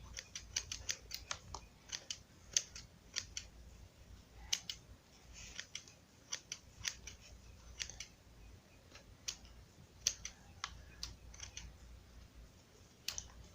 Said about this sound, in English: So you just keep cutting at it and cutting at it.